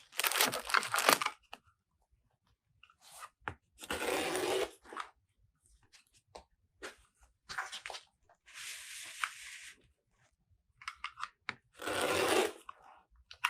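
Scissors snip through crinkly deco mesh for a summer bee wreath in short, bursts of rustling cuts separated by quiet pauses, close and fairly soft with no talking.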